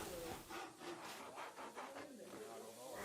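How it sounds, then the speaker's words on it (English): A handsaw cuts through wooden battens for a chicken pen, giving steady rasping back-and-forth strokes that run close and fairly loud for about three seconds, with no talking. "then cut with a handsaw on these pencil marks"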